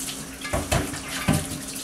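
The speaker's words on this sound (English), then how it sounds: "So we're going to put another gallon of warm water in here." Warm water pours steadily into a bucket for home brewing, a continuous close splashing wash with a few louder gushes and splats.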